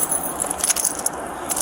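Car keys jangle on a ring, a close, bright metallic rattling with several small clinks in quick succession, alone without talk.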